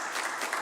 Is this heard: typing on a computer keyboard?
no